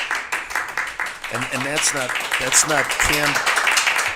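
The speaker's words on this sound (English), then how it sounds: "not canned applause. That's real applause." Live audience applause fills a Phoenix radio show hall after a Boeing-sponsored event, a steady wash of clapping running under someone talking over it.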